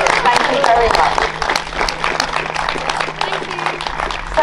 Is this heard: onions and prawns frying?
no